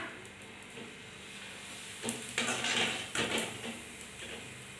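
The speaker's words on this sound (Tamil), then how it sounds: "இப்போ வந்து அப்பளம் பொரிச்சுக்கலாங்க." Small papads (appalam) deep-frying in oil, with a steady sizzle that rises into louder bubbling bursts midway, accompanied by a few faint clinks from the pan.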